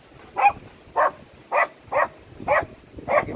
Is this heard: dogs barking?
yes